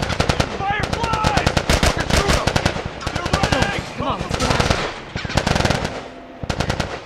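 Rapid bursts of automatic gunfire fill a firefight against Fireflies in The Last of Us video game, with dense repeated volleys nearly continuous throughout and a few brief gaps, loud and close.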